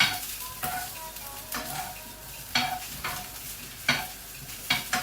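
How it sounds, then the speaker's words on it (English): Cauliflower fries in oil in a pan, a soft steady sizzle broken by several scraping stirs as the pieces are gently moved around, close and without talk. "So I'm just going to gently just move them around the pan."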